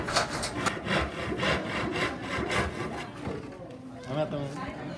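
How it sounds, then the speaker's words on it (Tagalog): A hand saw cuts through wood for making wooden letters, with rhythmic back-and-forth rasping strokes close by that slow and soften toward the end, while people talk quietly underneath. "Ay, gabas-gabasun. O bangagan ang tunga para makasulong ang gabas."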